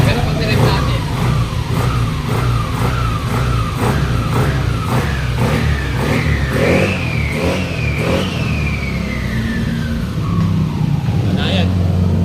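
A car engine revs repeatedly in rhythmic bursts, then climbs in a long rising whine before easing back down, close and loud.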